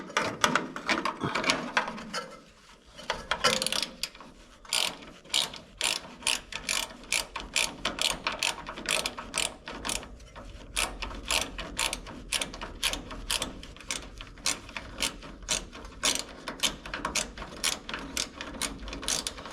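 A hand ratchet snugs down fasteners on the eyebrow molding of a 1964 Chevrolet Impala, giving long runs of rapid, close, crisp clicks that come in steady bursts for the whole stretch.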